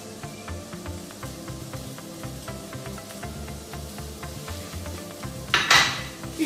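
A utensil clinks and scrapes against a bowl while grated cheese and garlic are mixed, a steady run of quiet, rhythmic taps near the microphone, growing louder in a brief clatter toward the end.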